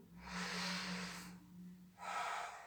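During a Hatha yoga exercise, two long, deep inhalations through the nose are heard close up, airy and breathy, separated by a short pause.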